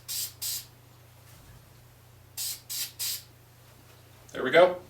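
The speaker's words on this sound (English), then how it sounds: "A little test spray." Five short test bursts from an aerosol lacquer spray can hiss in quick pairs and a triplet over a low hum, followed by a brief rustling clatter.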